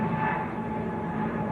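An Airbus A321neo jet airliner climbs out from Manchester Airport, heard as a steady, fairly distant engine roar.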